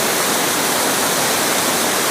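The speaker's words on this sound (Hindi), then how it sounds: "तो ये अभी आप देख रहे हो हिमाचल प्रदेश में सियूल नदी" The Siul River in Himachal Pradesh rushes past in a loud, steady roar of flowing water, a dense continuous wash that fills everything, with no voices.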